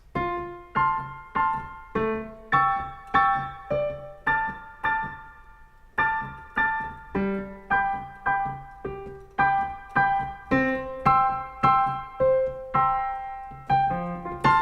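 Piano chords played alone in a steady, repeating rhythm, each chord struck and left to ring before the next, clear and close.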